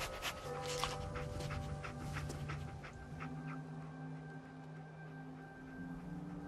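Dog panting in the video game Fallout 4, steady close breathing with occasional soft whimpers over an ambient game soundscape with tonal hums, continuous throughout without speech.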